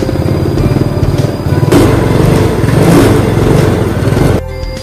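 A smooth-running 2007 Yamaha Mio Sporty scooter engine putters close by, with a steady, even idle that rises slightly in a couple of gentle swells before cutting off sharply near the end.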